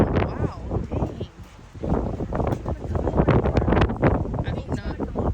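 Wind gusting and buffeting a microphone outdoors during a tornado ahead of Hurricane Milton, steady rumbling roar rising and falling through the whole stretch, with people talking over it.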